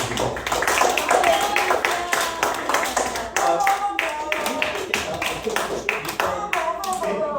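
A small audience claps near and steadily through the whole stretch, with scattered individual hands standing out as sharp taps and some chatter mixed underneath, at an event wrapping up before a short break.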